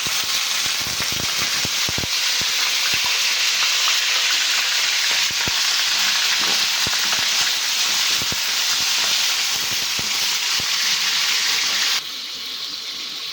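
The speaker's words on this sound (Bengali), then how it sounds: "আমি এভাবে করে মুরগিটা ভেজে নিতেছি।" Chicken pieces fry in hot soybean and olive oil, giving a loud, steady hiss with scattered sharp crackles and pops throughout, and the sizzle eases slightly near the end.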